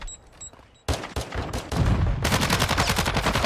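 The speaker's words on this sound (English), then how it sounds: "Oh, he's trying to shoot me." Call of Duty Modern Warfare 2 gunfire in a match: a few quiet shots, then heavy, loud automatic bursts that build and run continuously to the end, with no talking.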